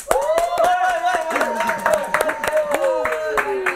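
Audience clapping at a customs laboratory event, scattered sharp claps heard under a prominent sustained tone and some voices, loud and close.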